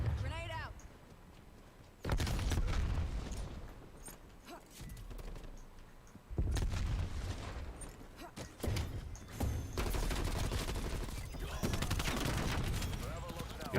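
Video game gunfire crackles in rapid bursts with a grenade explosion among them, loud and dense, sections of heavy shooting alternating with brief lulls while players talk over the action.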